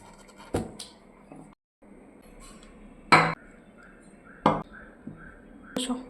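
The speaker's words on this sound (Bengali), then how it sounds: "নামিয়ে দিলাম বাটিগুলো" Bowls being set down on a table at home for lunch, a few sharp clinks and knocks of crockery spaced about a second apart, close and distinct against a quiet room with soft rustling between.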